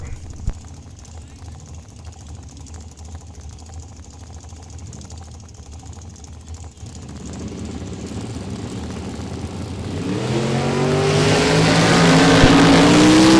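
A Gen 4 Z28 Camaro drag races down the strip, a steady engine drone building into a loud, rising roar near the end.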